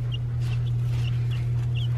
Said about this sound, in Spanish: ¿No podemos meter ese pollito adentro de la casa?